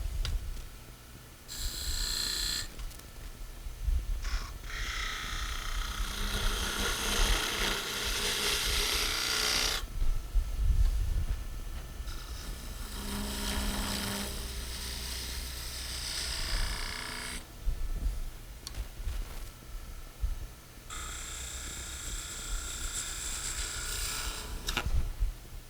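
A skew chisel rolls beads on a spindle turning on a wood lathe, giving steady raspy scraping and cutting passes that swell and fade in several long bursts over a constant lathe hum, close and fairly loud with no talk.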